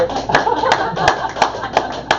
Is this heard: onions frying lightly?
no